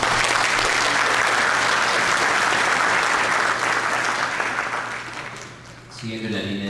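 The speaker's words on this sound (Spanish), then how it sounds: "Un aplauso, por favor" An audience at a forum on violence against people with disabilities applauds steadily, a dense crowd clapping that fades toward the end before a voice begins speaking.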